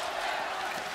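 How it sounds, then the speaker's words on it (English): Crowd noise fills an indoor arena during a Hungary versus Norway EHF Euro 2014 handball match, a steady, dense roar of fans cheering. "The crowd doing their best."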